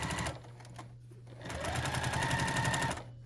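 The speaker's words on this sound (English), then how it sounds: "I usually just, you know, straighten this and I sew really close to the edge" A sewing machine stitches close to the edge of a tote bag pocket, running in quick rhythmic bursts with a steady mechanical hum and rapid needle ticks. It is near and moderately loud, with a brief pause partway through.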